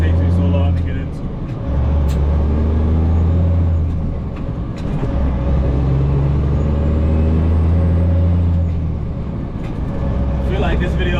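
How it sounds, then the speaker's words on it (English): A heavy truck hauling a low loader idles and rumbles steadily at close range, its deep engine note constant throughout, with faint hissy bursts that fit air brakes; a voice talks briefly over it. "I feel like the truck just sounds good."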